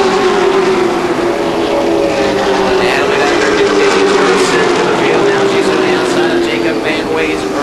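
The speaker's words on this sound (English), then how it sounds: "This will be the battle for the 6th spot now as they race side by side." Midwest Truck Tour race trucks at the Milwaukee Mile roaring side by side, a loud sustained engine drone with shifting pitch, continuous and close throughout, with a commentator's voice over it.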